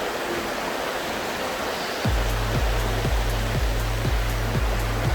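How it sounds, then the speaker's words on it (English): Jackaloff Creek on the Tutka Backdoor Trail rushes in a steady loud broadband wash during rain, with a regular low pulsing thump joining partway through. "Jackaloff Creek."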